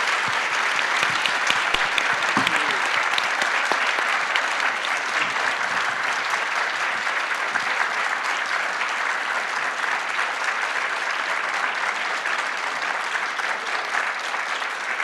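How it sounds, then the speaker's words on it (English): Sustained audience applause at a bookstore evening event celebrating Scotiabank Giller Prize shortlisted authors, a dense, steady wash of clapping from a large crowd lasting throughout, loud and continuous without talk. "If we can give them a round of applause,"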